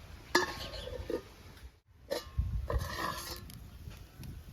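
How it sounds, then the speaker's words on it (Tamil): Metal clinks and clatters of a lid settling onto a pot of boiling country chicken rasam, a few short knocks close by, followed by a brief silence and more kitchen clatter. "இப்போ மூடி போட்டோம்"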